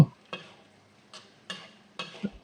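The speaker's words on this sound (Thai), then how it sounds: "แล้วก็ผัดไอ้เครื่องปรุงเข้ากันครับ" Seasonings including coconut sugar stir-fried in a pan for a mussel and pineapple coconut curry: four short, separate scraping stirs with soft sizzle between, quiet and close, no voices.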